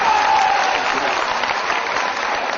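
Loud, dense applause from a large audience at a poetry recital, a steady roar of clapping that fills the whole stretch without pause.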